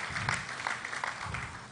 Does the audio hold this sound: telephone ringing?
no